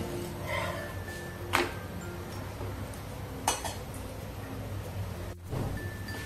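A chapati is flipped on a hot tawa, with a few sharp, close clinks of pan clatter standing out above a quiet kitchen background.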